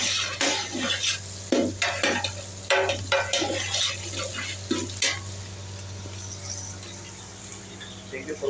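Chicken afritada with ginger and green chili is stirred in a pan. A spoon scrapes and clinks in repeated strokes over a low sizzle while someone talks throughout.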